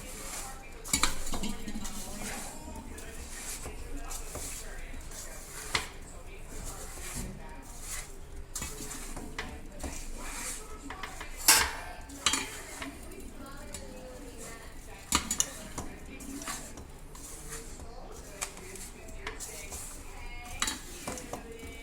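A spoon mixes turmeric and chili powder into amla pickle in a metal vessel, with scraping, knocking and clinking strokes repeated irregularly over about twenty seconds at close range.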